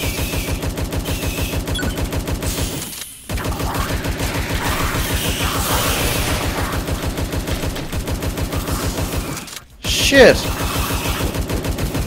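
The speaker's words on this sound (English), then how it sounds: "Give me that Tommy gun." Tommy gun fire in the arena shooter Tesla vs Lovecraft, a loud, steady rapid-fire rattle running through most of the stretch, broken by two brief pauses, with a short spoken exclamation over it.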